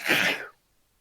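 A single sharp human sneeze, close and fairly loud, bursting out in the first half second and cutting off abruptly into silence.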